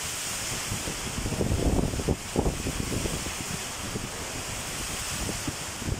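Strong typhoon wind in Northern Leyte, Philippines, blows continuously, a loud rushing roar buffeting the microphone with gusts rising and easing.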